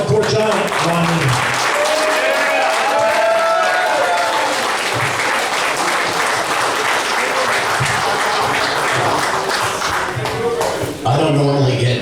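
A warm round of applause fills a room at a luncheon honoring a wrestling figure, sustained and loud clapping with some cheering and voices underneath.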